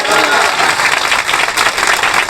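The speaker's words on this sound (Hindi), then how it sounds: "अरे ताली बजा, धन्यवाद करो ना" A church congregation bursts into loud, continuous clapping of thanks during a sermon, a thick, close wall of hands with some crowd voices mixed in.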